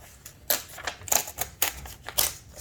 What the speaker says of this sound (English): start ripping out pages.